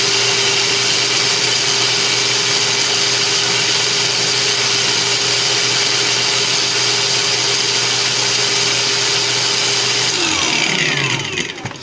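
A SHIDOKU cordless angle grinder runs steadily at full speed with a loud, high whine and constant pitch, then winds down as it is switched off near the end.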